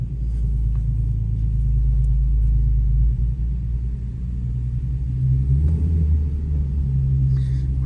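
A Nissan 350Z engine rumbles steadily and deep from inside a garage, a constant low drone with slight swells and no talking.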